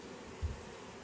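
Brief low buzzing of a honey bee swarm outdoors near a hive box, a faint steady drone with one slightly louder swell midway.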